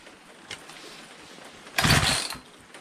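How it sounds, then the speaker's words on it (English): A Poulan 2250 Woodman 18-inch 36cc gas chainsaw is pull-started on choke after its fuel lines were replaced. A faint tick comes first, then a single short, loud rasp of the pull cord and a sputter from the engine that fades quickly. "So now when you choke it and pull, it holds it there so you can choke it"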